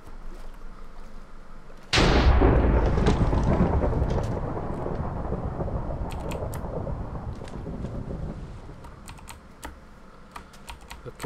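Lightning strikes in Minecraft Survival Games with a sudden loud thunder crack that rolls into a long, fading rumble over several seconds, alongside scattered keyboard clicks.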